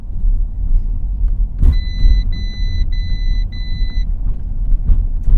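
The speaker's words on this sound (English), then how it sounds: "it just alerted me that my hood is not latched" Inside a 2024 Audi Q8 e-tron on the road, a warning chime for an unlatched hood beeps four times in a quick even pattern, clear over a low steady road rumble.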